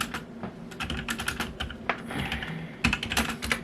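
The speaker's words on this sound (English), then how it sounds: "So what I like to do is I like to type it out." Rapid typing on a computer keyboard, with bursts of close, crisp key clicks and short pauses, and no voice.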